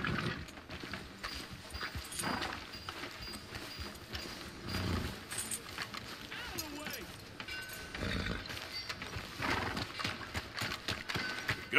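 Horse hooves clopping with neighs and other animal noises in Red Dead Redemption 2, a busy, continuous layer of game sounds and music with no speech.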